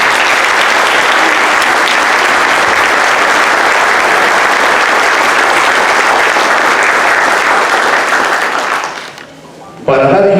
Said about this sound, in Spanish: saludemos con un cálido aplauso a nuestro autor, el maestro Antonio Escudero Caldas